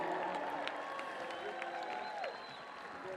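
A high school graduation crowd applauds at the 2021 Jefferson Forest ceremony, a dense steady wash of clapping from a large audience that eases slightly near the end, with a voice and a high tone over it.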